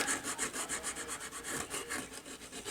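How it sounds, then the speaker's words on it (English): Sanding the seams of a USS Cerritos scale model, with a rhythmic back-and-forth rasping of abrasive against plastic, close and steady, repeated strokes at an even pace. "first I want to start with sanding these seams that needed some love"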